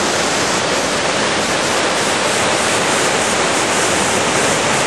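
Coac Falls roars in a dense, unbroken rush of water, loud and close, with no voices.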